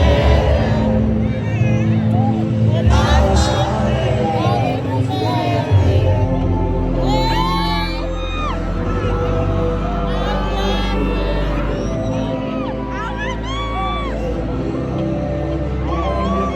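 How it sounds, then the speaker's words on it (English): A very loud crowd at a concert on a 2023 tour, with a dense roar of cheering, shrieks and voices filling the arena and nearby people calling out close by. "This might be the loudest crowd so far"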